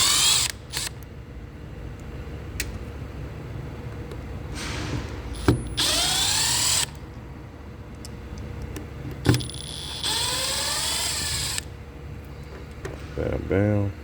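Power tool driving screws out of a Milwaukee M12 Stubby during disassembly, several short whirring bursts that rise and fall in pitch, mixed with clicks and clanks of handling, close up, with a person talking between them.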